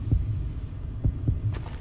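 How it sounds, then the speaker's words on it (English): Heartbeat during a Call of Juarez video game gunfight duel: low, soft thumps in close pairs, lub-dub, repeating about once a second over a quiet hum. "When you hear the heartbeat, you can draw your gun first"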